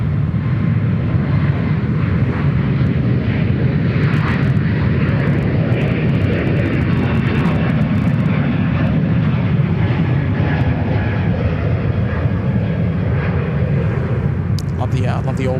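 An Air New Zealand airliner in All Blacks livery roars steadily through its takeoff run at Sydney Airport, a loud, unbroken engine rumble that fills the whole stretch.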